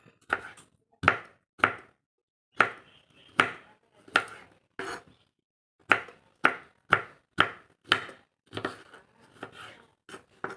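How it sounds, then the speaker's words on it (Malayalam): A knife chops bitter gourd for pickle on a cutting board in a steady run of crisp, close strikes, about twenty cuts with short pauses between groups, and no talking. "ഇങ്ങനെ വേണമെങ്കിൽ കട്ട് ചെയ്തിട്ട് നമുക്കിങ്ങനെ മുറിച്ചെടുക്കാവുന്നതാണ് കേട്ടോ"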